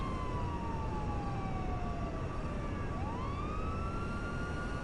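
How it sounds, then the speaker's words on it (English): A wailing police siren in the video game GTA V Online sweeps down and then rises again over a constant hiss of background noise, moderately distant. "I can hear sirens."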